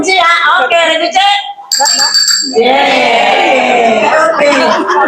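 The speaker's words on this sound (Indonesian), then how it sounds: "sebelumnya kita coba belnya ya" A quiz buzzer bell for team C is tested at an Indonesian Independence Day neighborhood celebration, ringing loudly and repeatedly with harsh, sustained electric tones amid a noisy crowd.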